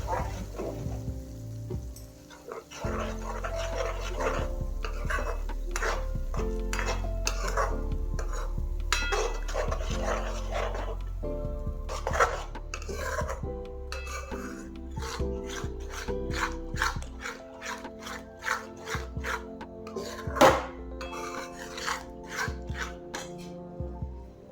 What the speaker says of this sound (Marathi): मिश्रण टाकल्यानंतर आपण हे व्यवस्थित परतून घेणार आहोत